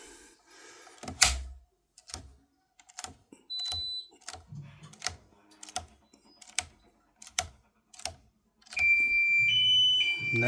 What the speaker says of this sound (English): And there's our annoying alarm again.